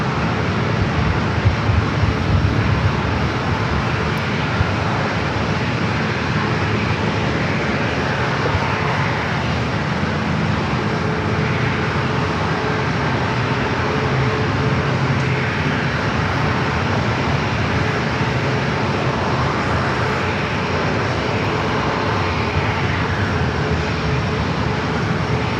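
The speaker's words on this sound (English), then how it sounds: "Our next arrival at United coming in from SFO, flight 8131, 737 at 900 ER." A United Boeing 737-900ER arriving from SFO on short final into San Diego airport, its jet engines giving a long, sustained roar that holds steady and fairly loud for the whole stretch, with no talking.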